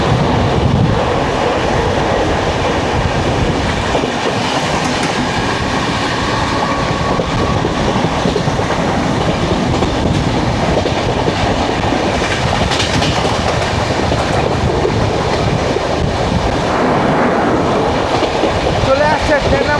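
Gitanjali Express, the Mumbai–Howrah train, running past Thane, with a loud, continuous rumble of wheels and carriages and a steady clickety-clack throughout.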